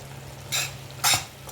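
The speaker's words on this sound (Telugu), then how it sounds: "వేసుకొని కలుపుకోవాలండి" Eggplant curry being stirred in a pan with garam masala and chili powder, giving two short scraping swishes of a spoon against the pan, fairly close, over a low steady hum with no talk.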